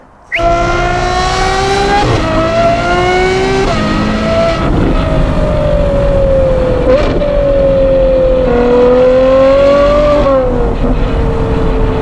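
A Ferrari 812 GTS with a Novitec exhaust screams loudly up through the revs, its V12 note climbing in repeated pulls with brief dips at the shifts, close and dominant from start to finish.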